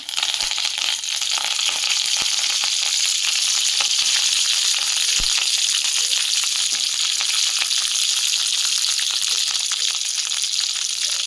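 Curry leaves, cumin and tomato chutney frying in a hot pan, a loud, steady, dense sizzle and crackle that holds without a break from start to finish, with a few faint stirring knocks.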